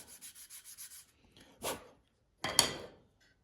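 Hand sanding of wooden urn parts with 180-grit sandpaper: a quick run of about seven soft rhythmic strokes, then two longer, louder rubs after pauses, close and with no talk.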